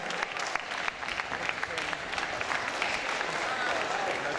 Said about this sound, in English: One more massive round of applause for both these guys.